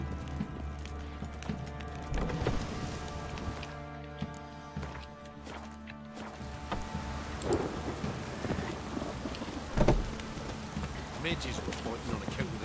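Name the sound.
rain and thunderstorm in video game The Witcher 3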